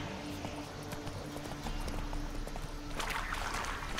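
Horse hooves in The Witcher 3 video game keep up a steady clip-clop throughout, growing louder and busier with a burst of extra noise near the end.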